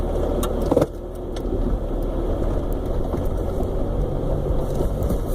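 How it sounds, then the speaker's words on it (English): A 4x4 vehicle engine in four-wheel low grinds steadily while descending a rocky gulch in the El Paso Mountains, a continuous near rumble with faint rattles and one brief knock early on. "So I'm shifting into four-wheel low now."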